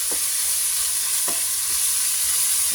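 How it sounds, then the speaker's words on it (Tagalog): Vegetables for chop suey sautéing in a pan, a steady close hiss of frying with a couple of brief stirring scrapes, no voices. "Igisa natin siya ng maigi."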